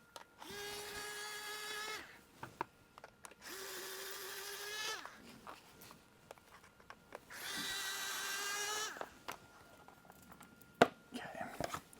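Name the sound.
power tool loosening 4mm Allen bolts on Talaria Sting fender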